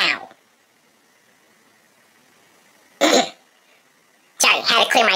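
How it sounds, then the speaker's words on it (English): Throat clearing: two short, harsh bursts, one at the start and another a few seconds later, with a rougher cough-like burst near the end, separated by near-silence. "Had to clear my throat."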